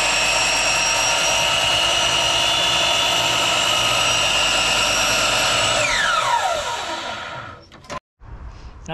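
A power saw cutting plywood whines loudly and steadily up close, then spins down with a falling pitch, followed by a brief pause and a faint clunk.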